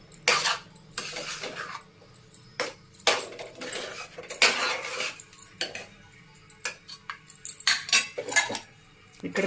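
Dishes and cutlery clink and scrape in repeated bursts as a home-cooked meal is plated and served, close up and fairly loud, with short quiet gaps between the clatter.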